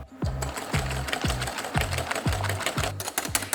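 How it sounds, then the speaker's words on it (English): Eggs and caster sugar whisked by hand, the whisk beating in a steady, fast rhythm of roughly two strokes a second, each stroke a clear knock and scrape, close and continuous with no talking. "You want to whisk the egg mixture until it's nice and pale and thick"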